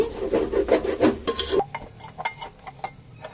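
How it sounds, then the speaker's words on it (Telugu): A spoon scrapes and stirs onions in a pot while cooking mutton biryani, giving a burst of rough rubbing strokes for over a second, then lighter, sparser scrapes and clinks. "తిప్పుకుందాం ఒకసారి ఉల్లిపాయలు ఇంకా ఉడకాలి"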